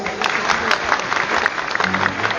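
A wedding audience in France claps to vote during a singing contest. The applause is a dense, steady wash throughout, with a few voices mixed in.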